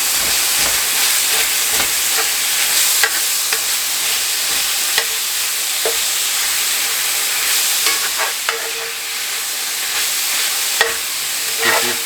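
Meat for a Philly cheesesteak sizzles steadily in a hot pan with garlic while a spatula breaks it up, sending scraping clicks through the constant frying hiss, with no voices.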